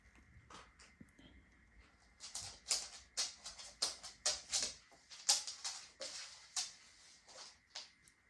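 A dog's untrimmed nails click and clatter on a hard floor in a quick irregular run of taps, faint at first and then louder and closer, with no one talking.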